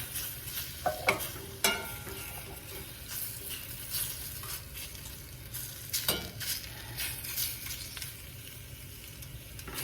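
Drained, sliced red beets sizzle steadily in a frying pan, a dense close crackle broken by a few louder stirring scrapes and clatters, with no voices.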